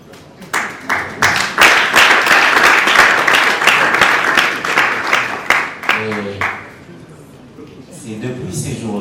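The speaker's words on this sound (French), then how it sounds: "Est-ce qu'on peut applaudir bien fort pour notre icône?" An awards ceremony audience breaks into loud, dense applause that carries for several seconds before thinning out, and a voice speaks over the tail end as the clapping fades.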